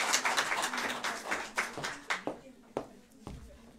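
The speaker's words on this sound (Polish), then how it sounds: "Wiktoria Czarnecka. Wielkie brawa." Audience applause at a county literary competition finale, a burst of hand clapping that starts fairly dense and thins into scattered individual claps as it dies away.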